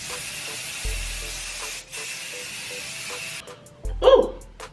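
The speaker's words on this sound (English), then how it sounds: "I'm just gonna spray a little to the side" Makeup fixing spray misted from a bottle to the side, a hard, steady hissing spray lasting a few seconds, with a shorter burst and a louder puff near the end.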